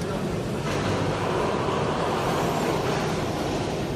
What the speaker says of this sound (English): Now I'm pumping the water